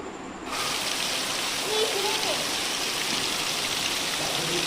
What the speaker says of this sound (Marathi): पाहू शकता किती जोरामध्ये पाऊस आलाय आमच्याकडे